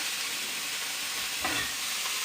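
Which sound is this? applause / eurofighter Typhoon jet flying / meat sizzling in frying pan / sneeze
meat sizzling in frying pan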